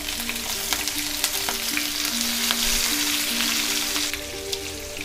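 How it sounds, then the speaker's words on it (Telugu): Mustard seeds, chana dal and green chillies frying in hot oil, a dense, close, steady sizzle with scattered crackles and pops running the whole time, with no voices. "4 టేబుల్ స్పూన్ ఆయిల్ వేసుకుందాం. 1 టీ స్పూన్ ఆవాలు వేసుకుందాం."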